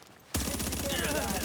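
Sustained video game gunfire bursts in suddenly after a quiet moment, a dense, loud, continuous rattle of automatic weapons that rumbles on steadily without pause.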